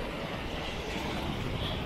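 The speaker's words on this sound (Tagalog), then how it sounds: "Ay, lakas ng alon, oh." Strong ocean waves surging around a boat at sea near El Nido, a steady broadband roar of rushing water and wind that carries on unbroken from start to finish.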